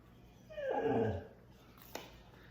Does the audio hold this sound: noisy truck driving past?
no